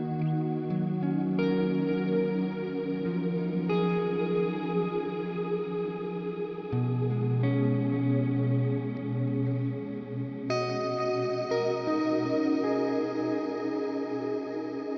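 Sustained, washy electric guitar chords through a Clairvoyant reverb plugin ring out with a long reverb tail and chorus-like shimmer, shifting chords every few seconds, steady and fairly loud.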